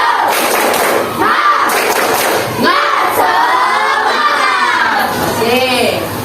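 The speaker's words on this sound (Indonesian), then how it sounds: "Dalam hitungan ketiga kita mulai. 1, 2, 3. Tepuk semangat" A group of children does a spirit clap chant, rhythmic hand claps and thumps mixed with loud, energetic shouted chanting voices, steady and close throughout.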